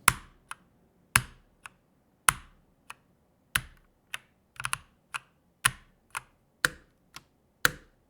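An ROG mechanical gaming keyboard with linear hot-swappable switches and foam-dampened plastic case is typed on slowly, about fifteen crisp, close, isolated keystrokes in an uneven rhythm with a few quick doubles.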